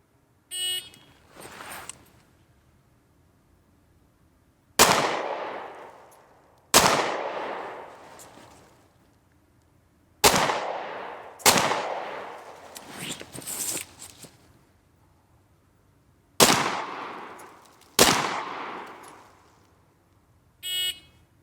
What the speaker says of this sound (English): So I am going to try to get these shots all off within the appropriate time limits for both of these stages